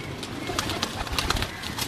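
Soft, low cooing from a flock of pigeons kept in a home loft, mixed with rustling, light scratches and occasional wing flutters nearby.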